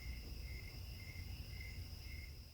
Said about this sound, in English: listening to all the crickets and frogs singing in the background